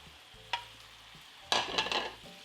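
Beef steak bites stirred in a pan of garlic butter sauce: two bursts of scraping and sizzling, one short scrape early and a longer, louder stir later, over a low steady simmer, close by with no talk.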